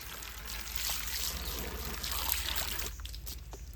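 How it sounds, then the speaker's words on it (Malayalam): Water mixed with a little phenyl disinfectant being poured out, a steady, fairly faint trickling splash that runs continuously and thins slightly near the end, with no talking. "എന്നിട്ട് ഇച്ചിരി പെനയോടും കൂടി ഒഴിച്ച് കൊടുക്കും, പ്രാണികളൊന്നും വരാണ്ടിരിക്കാൻ വേണ്ടിയിട്ട്"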